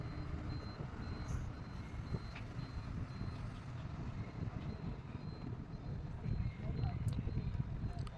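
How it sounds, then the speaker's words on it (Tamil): A bus pulls into the solar-powered bus station in Erode, its heavy engine rumbling steadily close by amid constant traffic noise, with a reversing beep and brief air-brake hiss along the way. "இதோ நாம் போகும் வேளையில் ஒரு பேருந்து பேருந்து நிலையத்திற்கு சென்று கொண்டிருக்கிறது."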